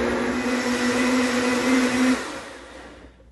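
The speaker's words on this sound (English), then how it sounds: "Now in a high speed blender I'm going to blend it to make the chutney." A high-speed blender purees green chutney, its motor a loud steady whirring hum for about two seconds before it cuts off and winds down to silence, with no talk.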